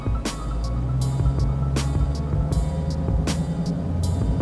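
A Dodge Charger Daytona 392 V8 idles with a low, steady rumble while held on the brakes, its revs rising in short repeated blips under a faint high rattle.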